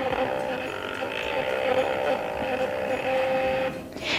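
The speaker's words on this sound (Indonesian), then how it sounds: "Lalu ada printer test, ini digunakan untuk mengecek kondisi printer internal yang ada di sini." Internal printer of an HbA1c analyzer running a printer test, a steady loud mechanical whirring and buzzing print motor that continues throughout before easing off at the end.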